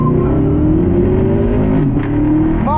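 Chevrolet Camaro V8 engine revving hard during a street race, a loud, sustained roar with rising harmonic tones as it accelerates, close and steady with a brief shift near the end.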